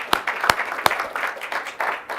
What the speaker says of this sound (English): Join me in giving him a round of applause.